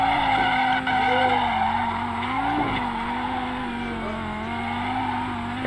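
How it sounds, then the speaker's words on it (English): A car in a racing video game does a burnout, its tires squealing in a sustained, wavering screech over a steady engine drone. "This car drives like garbage. I can do burnouts though."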